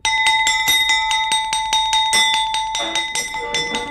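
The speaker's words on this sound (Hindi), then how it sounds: "हमारा हुक्म है, आधी छुट्टी की घंटी बजा दी" A school recess bell rings continuously and loudly with a steady metallic buzz, sustained for several seconds without any voices.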